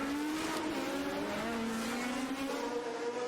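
A Lotus 77 Formula One car laps the Monaco street circuit, its engine note climbing and shifting through the gears in a loud, continuous scream as it passes close by, with no talking.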